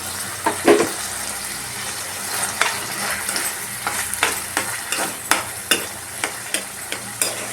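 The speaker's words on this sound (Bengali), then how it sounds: "ফ্রাইটা আমি করছি, আমার মনে হলো যে ফ্রাই করলে বেশি টেস্টি লাগবে, তো আমি এখানে ফ্রাই করে নিচ্ছি।" Shrimp frying in a pan with a steady broad sizzle, punctuated by repeated scraping and stirring knocks that come in a loose rhythm, close and fairly loud with no one talking.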